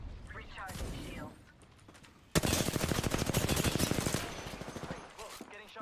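Video-game combat in which rapid automatic gunfire bursts out loudly and continuously, preceded by quieter shots and game voice callouts, with a voice speaking over it.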